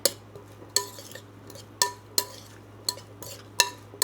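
Utensils clink and scrape against a bowl while tossing an Azerbaijani shepherd's salad, roughly eight bright clatters in an uneven rhythm over a steady low hum, close and fairly quiet.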